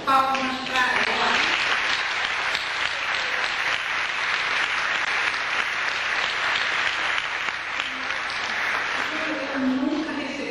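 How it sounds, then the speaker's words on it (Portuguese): Sustained audience applause for a woman during a lecture, dense and even for about ten seconds, with brief voices at the start and end. "Palmas para ela."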